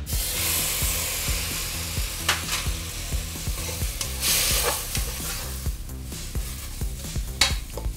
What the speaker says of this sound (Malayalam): എന്നിട്ട് നമുക്കിത് സൈഡിലിട്ടൊന്ന് മൂപ്പിച്ചെടുക്കാം